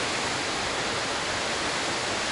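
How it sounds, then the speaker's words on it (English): Steady, loud broadband roar of the Skogafoss waterfall beside a chasm in Iceland, continuous and unbroken throughout with no other sounds on top. "the waterfall and the chasm"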